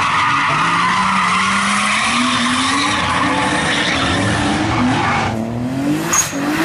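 A Nissan 300ZX Z32 drifts with a loud, continuous tire squeal, its engine note climbing steadily underneath and then easing near the end.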